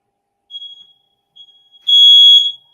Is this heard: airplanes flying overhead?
no